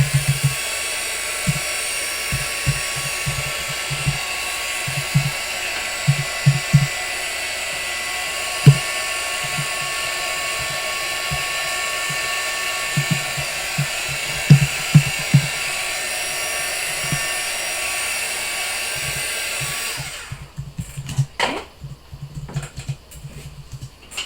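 A dual-setting embossing heat gun drying a watercolour painting gives a steady, loud whirring blow for about twenty seconds, punctuated by light taps and clicks, then switches off, leaving small handling noises.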